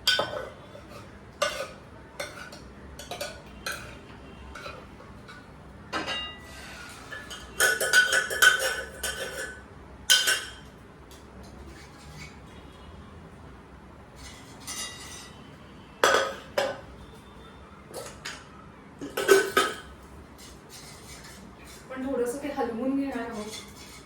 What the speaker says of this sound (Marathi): रताळा आणि गूळ शिजवून आपण हे मिश्रण केलेलं आहे स्मॅश केलं, ते मी कढईमध्ये घालणार आहे